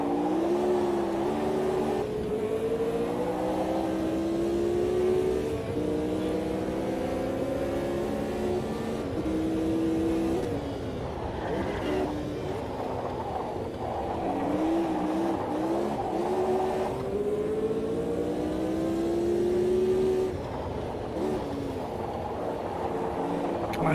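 Race car engines rev and whine through shifting gears in a sim racing game at night, with several cars running close together, rising and falling pitch sweeps, occasional tire squeal, loud and continuous throughout.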